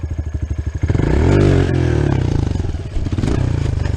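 Dirt motorcycle on a trail revving hard through second-gear wheelies, the engine climbing from a pulsing idle into a loud sustained roar, dipping and surging again, close to the rider.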